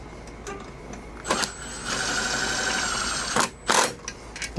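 Impact driver running a 3/16 Allen bolt into a Baja light bracket on a Harley-Davidson Road Glide, heard as two short close rattling bursts with a steadier whirring stretch between them.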